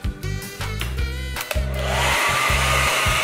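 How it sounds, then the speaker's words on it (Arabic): A hair dryer switches on nearby with a brief whining hum, then settles into a loud, steady rush of blowing air that continues to the end with no voices. "الحين بتسوي شغل استشوار عشان الحر"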